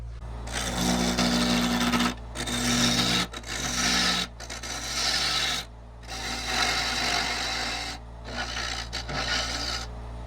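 Wood lathe turning a walnut canteen flask insert gives a rasping, scraping cut in bursts, broken by short silent gaps, over a steady low motor hum.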